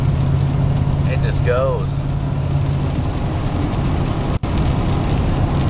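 A brand new truck drives down a straight road in the rain, a steady engine and tire rumble with a rainy wash, while someone talks over it.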